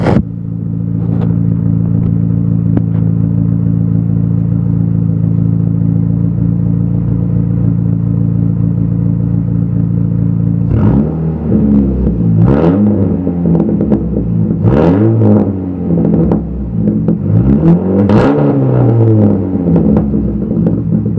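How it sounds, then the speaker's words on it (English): Dodge Neon with the muffler removed and exhaust run straight out the side through a tip, idling with a steady low drone before several sharp, raspy revs, loud and close. "I just went straight out the side with the tip, so now it sounds like a race car."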